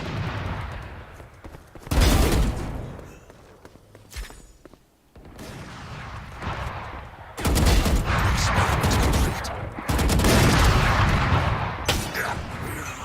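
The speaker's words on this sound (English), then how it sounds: "Where am I getting shot from?" Video game gunfire during a LEVIATIAN vs FPX esports match: bursts of sharp, loud shots and rapid volleys come in waves, separated by quieter stretches with shuffling footsteps.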